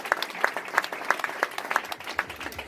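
An audience at an award ceremony applauds for the Bertoli stonemasonry workshop, a steady patter of many hands with regular sharper claps from nearby, mid-level and continuous.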